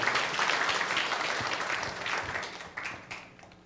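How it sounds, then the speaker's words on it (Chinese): A church congregation at a Mandarin Sunday service applauds to welcome new members, a fairly soft stretch of mixed clapping from the room that thins toward the end. "我们再一次掌声欢迎我们4位的新朋友进入到我们的教会。"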